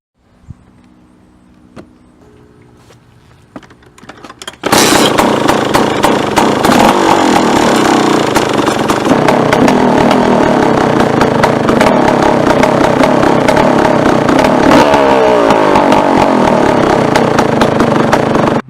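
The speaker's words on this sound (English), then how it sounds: "Now I'm gonna warm up the bike and check the oil." A KTM 200 XC-W two-stroke dirt bike warms up. After a few seconds of quiet handling noise, the engine fires and runs loud and steady up close, with a rough buzzing roar that carries to the end.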